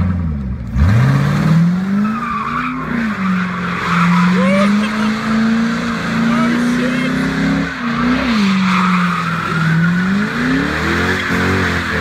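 Ford Mustang skidding and shredding its tires, a loud sustained tire squeal that rises and wavers over a revving engine, close by, with brief engine surges.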